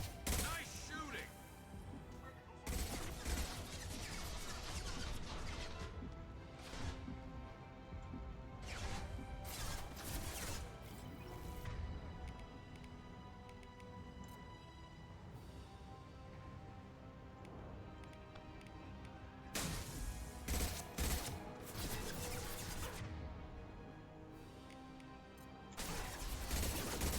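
Gunfire in Mass Effect 2 comes in repeated loud bursts of sharp shots scattered across a noisy combat scene, with quieter stretches between volleys and faint voices in the mix.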